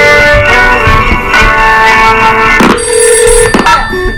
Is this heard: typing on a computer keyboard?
no